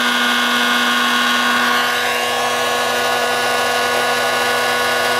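A generator runs at high speed in a steady loud whine with a strong hum as a coil is switched in under load, the pitch dipping slightly midway and then holding.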